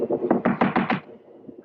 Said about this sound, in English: Better try knocking this time, Watson.